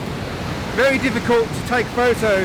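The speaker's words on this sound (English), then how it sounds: "because of all the rain that we've had, all the waterfalls are completely blown out" A waterfall in full spate after heavy rain roars as a steady, broad rush of water, while someone talks close to the microphone over it.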